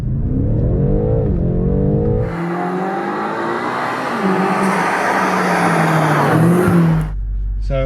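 A BMW M8 Competition pulls hard through first gear, engine note climbing steeply and loudly to a high-revving howl before cutting off sharply, with a brief voice heard at the start.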